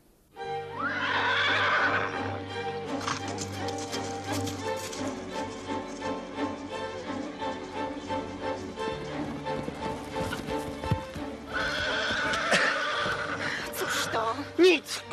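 A horse whinnies loudly at the start and again near the end, with hooves clopping and a crowded mix of shouting voices and action in between, during a period drama scene where an unshod horse falls.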